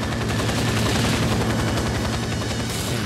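Sustained rapid gunfire from the video game 007: Nightfire, set in a Paris level, a dense, continuous automatic burst rattling loudly throughout with no talk over it.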